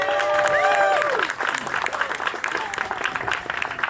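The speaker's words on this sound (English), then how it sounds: "Let's give him a round of applause." Crowd applause at an outdoor Democratic Party Labor Day picnic, clapping mixed with chatter and a few whistles, strongest at the start and then thinning out.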